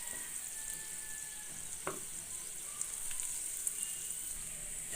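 Chopped onions and green chillies frying in mustard oil for a tehari, giving a steady, fairly faint sizzle with a few soft stirring taps, no voices.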